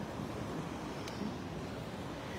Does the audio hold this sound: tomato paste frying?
no